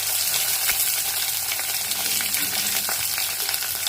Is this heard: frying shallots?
yes